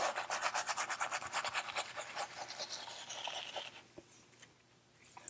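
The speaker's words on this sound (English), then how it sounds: "But I am going to shave around it." A razor scrapes close over a shaved head and around a beard in a rapid, rhythmic rasping run that thins toward the end, with no talk.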